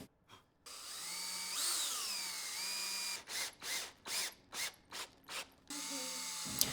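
A power drill drives screws into camper kitchen cabinet pieces, with a long whirring run followed by a series of short ratcheting bursts and another sustained whir, all fairly close and with no talk.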